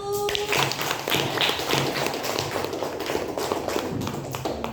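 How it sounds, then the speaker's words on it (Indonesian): Classroom applause for a student discussion group, a burst of many hands clapping together at close range, steady and lively throughout. "kita beri aplaus untuk kelompok 1"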